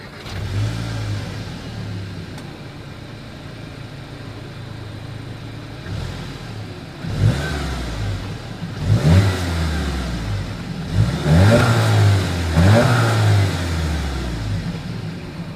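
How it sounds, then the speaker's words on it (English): A 2021 Volkswagen Jetta GLI sedan engine idles low, then revs sharply several times, the exhaust rising and falling in loud bursts close by. "As always, here is that exhaust clip."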